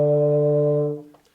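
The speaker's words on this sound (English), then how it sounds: "For D, you're going to press down your first valve and your second valve," A single sustained D on a euphonium, played with the first and second valves pressed, rings steadily for about a second and then dies away.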